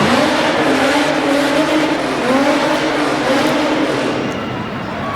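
Tough trucks race into the final corner of a dirt track, engines roaring loud and steady with revving pitch shifts, the racket continuous and close throughout with a slight fade at the end.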